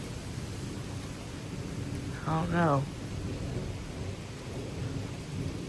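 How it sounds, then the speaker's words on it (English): A severe thunderstorm with gusting wind and rain makes a constant hiss and low rumble, rising briefly to a louder swell, while a person speaks a few words partway through. "I can't go out to the street because it's, well, it's raining."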